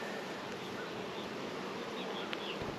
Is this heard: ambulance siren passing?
no